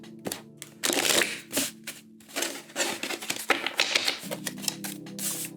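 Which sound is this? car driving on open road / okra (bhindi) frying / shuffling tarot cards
shuffling tarot cards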